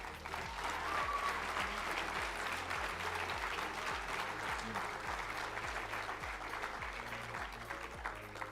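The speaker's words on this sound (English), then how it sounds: "how about one more round of applause for all of our 2023 State Sportscasters of the Year" An audience at the 2023 State Sportscasters of the Year awards ceremony applauds a winner, a broad, sustained wash of clapping at moderate level over a soft repeating low musical pulse, continuing without speech.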